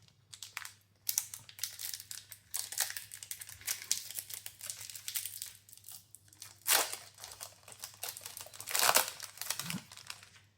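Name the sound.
opening a Magic Tarkir booster pack wrapper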